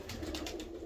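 Pigeons in a loft give low, steady cooing that runs without a break through the short moment, with soft, repeated pulses above it and no talk.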